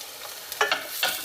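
Chopped small onion sautés in cooking oil for a budget lentil and bulgur dish, with a soft, quiet sizzle broken by a few short bursts of stirring, close by.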